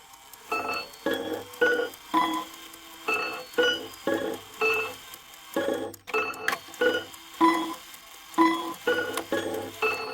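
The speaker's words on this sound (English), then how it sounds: "now I got to adjust these hammers to make them sound nice. I'll let you hear them, what they sound like prior to" Hammers strike chime rods in a wall clock fitted with a replacement movement, still unadjusted, ringing a repeating melodic sequence of bright tones in steady groups with short pauses between, close and clear.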